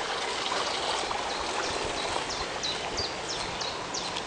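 Water trickles steadily through a shallow muddy ditch, a soft continuous burble, while birds chirp faintly in the background.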